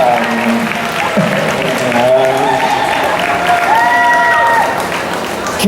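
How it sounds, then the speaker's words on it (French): Audience at a Paris Manga convention panel for Once Upon A Time applauding steadily and loudly throughout, a dense wash of clapping with voices calling out over it. "Continue applauding. Continue."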